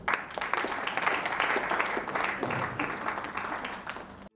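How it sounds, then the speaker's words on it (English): An audience at a microfinance bank event claps continuously, a dense, moderately loud wash of many hands that holds steady and then cuts off abruptly at the end. "Clap for us."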